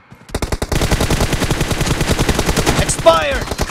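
Sustained automatic fire from an M416 rifle in the PUBG video game, a loud, rapid, evenly spaced burst lasting several seconds with a brief shout near the end.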